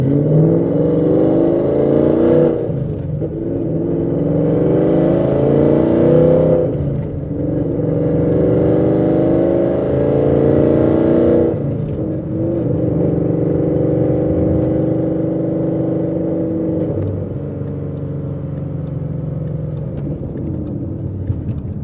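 A 2016 Ford Mustang RTR engine revs hard and climbs through the gears in Las Vegas, loud and close, with rising pitch sweeps broken by brief dips at each shift and no talking.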